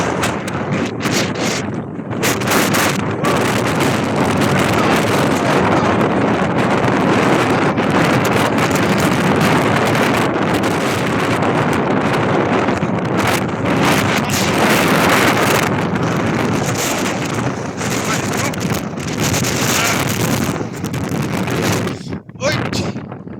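Strong wind off the sea buffets the microphone in a loud, continuous roar at an old fort in Croatia, with a few short gaps and faint voices under the gusts.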